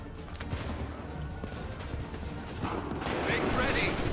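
Musket volley gunfire from soldiers in the video game Assassin's Creed 3, a steady battlefield rumble of scattered shots building to a louder, denser volley near the end, with shouting voices mixed in.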